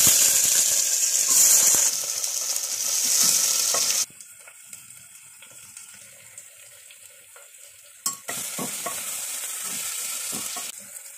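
Vegetables fry in a mix of refined oil and ghee, a loud bright sizzle for the first few seconds, then quieter crackling with scattered clinks and a sharp knock, before the frying hiss swells again.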